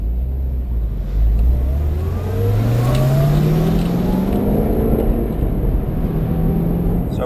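A powerful Corvette ZR1 pace car engine revs and accelerates loudly nearby at the Indianapolis 500, its pitch climbing in long sweeping rises over a steady roar.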